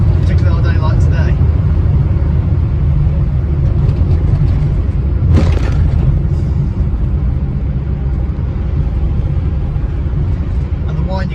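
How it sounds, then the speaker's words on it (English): Steady low drone of an Austin Allegro with its A-series engine on the move, a continuous loud rumble throughout, with people talking over it. "the whine you get from the A series is a sound all of its own, so characterful"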